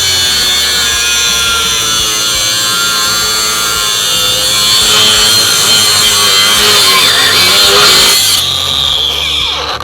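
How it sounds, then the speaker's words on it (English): A Bosch GWS 18V-15 C BiTurbo cordless angle grinder cuts under heavy load, its disc giving a loud, continuous, steady abrasive whine and grinding rasp close up for about ten seconds with no drop in motor pitch. "You didn't hear a single you know, change in tone of that BiTurbo motor."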